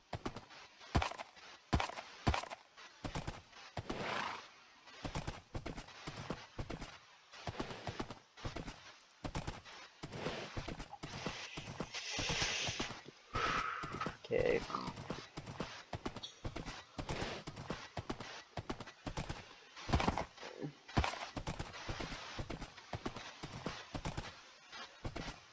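Horse hooves clip-clop in a Minecraft game as a steady run of quick, crisp beats. A brief whinny-like tone is heard in the middle.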